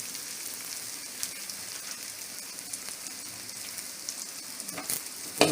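Chilli chicken spiced with turmeric and garam masala fries in a pan with a steady crackling sizzle, broken by scraping and clinking as a spatula stirs it through, close by and without speech.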